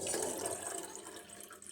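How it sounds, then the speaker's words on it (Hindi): Water pours into a pan for ginger tea, a close splashing gush that starts strong and gradually tapers off with no talk. "इसमें मैंने 1 गिलास ये वाला 1 कप पानी डाल दिया हुआ है"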